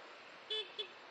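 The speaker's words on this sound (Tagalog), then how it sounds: "Pero pag nag-minor kayo, make sure na bubusina kayo." A car horn sounds two short toots while driving, the first a bit longer than the second, fairly faint over steady road and cabin noise.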